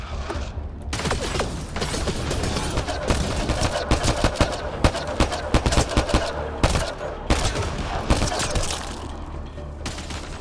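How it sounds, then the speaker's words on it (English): Dense gunfire from the video game Mass Effect Andromeda, with rapid bursts and sharp cracking shots overlapping in a loud, continuous firefight and occasional faint voices underneath. "Who you shooting?"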